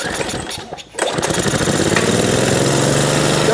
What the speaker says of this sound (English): about to find out whether or not this engine will run using this fuel on that engine